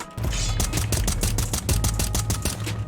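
Rapid automatic gunfire in the mobile shooter Free Fire, a steady stream of loud, evenly spaced shots rattling on without pause for nearly three seconds.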